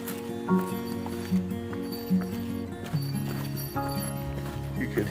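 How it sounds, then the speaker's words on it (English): A small bear bell hanging on a hiker's pack jingles in a steady rhythm with each stride along a forest trail, soft and close, repeating every second or so. "You could hear my little bear bell in the background"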